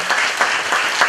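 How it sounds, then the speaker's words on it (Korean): A lecture audience gives a brief burst of applause, steady dense clapping with no talk over it. "박수로 감사드립니다."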